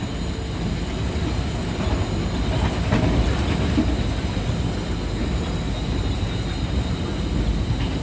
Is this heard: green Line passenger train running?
yes